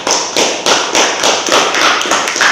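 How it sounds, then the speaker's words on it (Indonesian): Steady rhythmic applause from a classroom audience rewarding a student group's presentation during a group discussion session, a run of even claps with no voices over it. "untuk kelompok 1 kita beri aplaus untuk penyampaian materinya"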